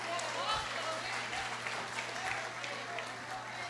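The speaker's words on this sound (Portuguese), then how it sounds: "Dá uma salva de palmas para eles, gente." A church audience claps for a group after a sermon joke, with steady, moderately faint applause and a low background hum throughout.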